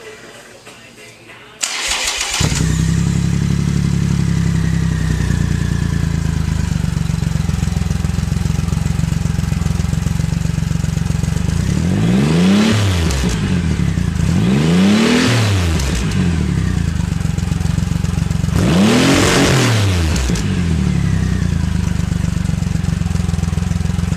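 A Viking Crossover motorcycle with Torx aftermarket exhaust pipes cranks and fires up, settles into a loud, throaty idle, then is revved hard three times, each rev rising and falling.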